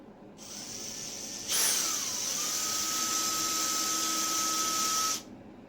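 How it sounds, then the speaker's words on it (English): A 2mm drill bit spins up in a small hand drill, boring holes into the hinge slots of a model airplane's tail surfaces; a steady high whine rises suddenly, holds for a few seconds, then cuts off, close and alone. "Take a 2mm drill and drill a hole in the center of each hinge slot"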